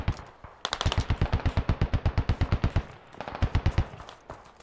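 Rapid bursts of automatic fire from a mounted vehicle gun in a military shooter game, a long rhythmic string of loud close shots, a brief pause, then a shorter burst, with no talking.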